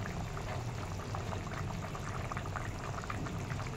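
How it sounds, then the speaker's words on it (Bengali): Raw mustard oil drizzled over a simmering hilsa curry in mustard gravy, a steady bubbling and light pouring patter running throughout at close range, with no talk. "এবার উপর থেকে একটু ছড়িয়ে দেব কাঁচা সর্ষের তেল।"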